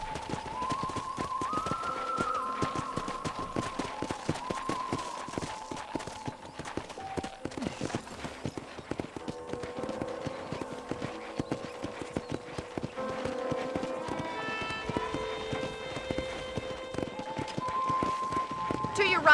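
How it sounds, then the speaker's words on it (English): Horse hooves clip-clopping at a steady riding pace in the video game Red Dead Redemption, continuous throughout, with a character talking and game music over the hoofbeats. "let's see if you can still ride a horse"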